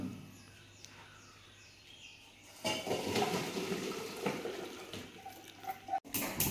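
Hot water drains from boiled cauliflower, starting with faint kitchen noise before a louder splashing rush of pouring water takes over and keeps going, ending with a few brief clatters.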